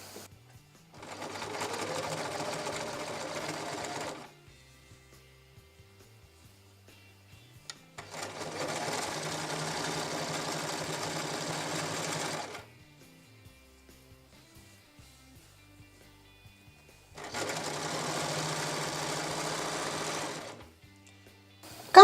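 A sewing machine stitches a straight seam 4 mm from the edge of a table napkin in three separate bursts of steady rapid whirring, each lasting several seconds and broken by near-silent pauses.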